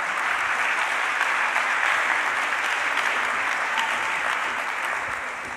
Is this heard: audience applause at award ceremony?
yes